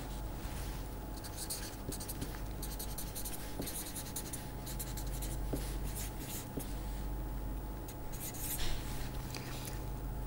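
Lecturer writing equations by hand, chalk or marker strokes scratching in quick irregular bursts for several seconds, close and clear with a faint steady hum beneath.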